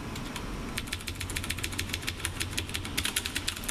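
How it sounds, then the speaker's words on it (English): Rapid clicky typing on a Rosewill RK-9000i mechanical keyboard with loud blue switches, a dense steady stream of crisp, close keystrokes with no talking. "So the blues are some of the loudest keys out here."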